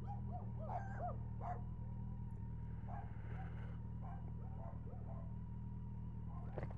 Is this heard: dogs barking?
yes